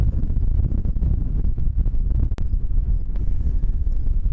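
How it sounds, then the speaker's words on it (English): Strong wind buffets the microphone in a constant low roar, gusting loudly for the whole stretch, at a high viewpoint near Chimney Rock in western Nebraska. "It's very windy up here today."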